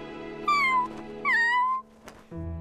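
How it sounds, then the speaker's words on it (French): A hungry kitten gives two drawn-out, plaintive meows close by, followed by a short higher cry, over a faint background hum. "Tout ce tintamarre n'était dû qu'à un tout petit chat affamé."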